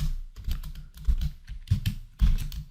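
C code is typed on a computer keyboard: quick clusters of key clicks with short pauses between bursts, close and clear with no voices.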